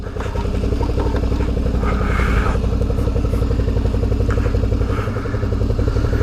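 A dual-sport motorcycle engine, a V-Strom 650 or Tiger 800, idles and runs steadily on a backcountry track, with a loud, continuous, throbbing pulse and occasional clatter and scraping over it.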